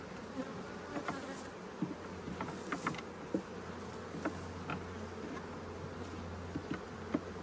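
Honey bees buzz steadily around an open hive during a modified Demaree split, a faint continuous hum with occasional small taps and knocks.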